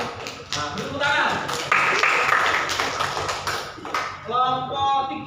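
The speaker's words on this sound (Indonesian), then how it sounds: "tepuk tangan" Classroom applause during a guidance lesson, a burst of clapping from a group of students lasting several seconds, with voices talking before and after it.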